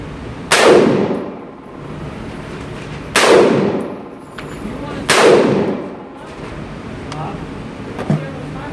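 Three loud single shots from an M16A1 rifle, each a sharp crack with a short ringing tail, spaced a couple of seconds apart outdoors, followed by faint clicks.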